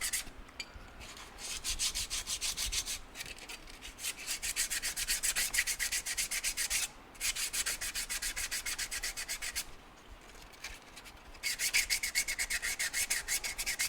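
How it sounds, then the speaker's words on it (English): A glazed brake shoe from a Suzuki TS250 scrubbed with 80 grit sandpaper, giving fast, rhythmic, gritty back-and-forth rasping close by, with a few short pauses between bursts. "So, little 80 grit sandpaper. All you want to do is remove the glaze."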